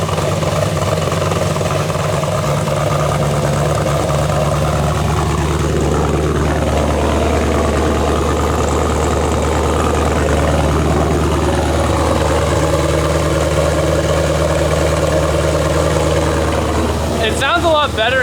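A Pontiac Solstice swapped with an LS3 V8 idles steadily on a new exhaust with an X-pipe, a loud, deep, continuous rumble held throughout, with people talking over it and a brief clatter near the end.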